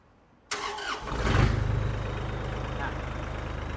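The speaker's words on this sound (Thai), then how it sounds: "ฟังเสียงเครื่องยนต์กันซะหน่อย" A used farm tractor's engine cranks and catches after a sharp start, then settles into a loud, steady diesel idle with a rhythmic chugging throb.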